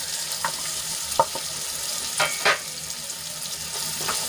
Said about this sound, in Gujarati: હવે ડુંગળીને આપણે ગુલાબી રંગની થાય ત્યાં સુધી આપણે એને સાંતળી લેવાની છે